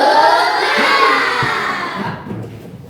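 A sixth-grade class bursts into a loud group clapping chant for spirit, with kids shouting together and hands clapping over a steady crowd roar that fades slightly toward the end.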